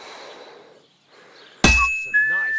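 A single loud, bright clang of a hammer striking a sword on an anvil in Kingdom Come: Deliverance 2 rings out over quiet ambience, followed by a short tonal whistle and a lingering metallic ring.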